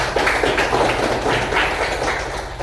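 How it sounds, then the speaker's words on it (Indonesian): A class applauds all the student groups, steady broadband clapping from many hands with several pulsing swells, fairly close and continuous throughout. "Tepuk tangan dulu untuk semua kelompok."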